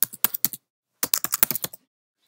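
Computer keyboard typing on a Mac while saving a TextEdit file, two quick bursts of crisp, close keystrokes separated by a short pause, with no voices.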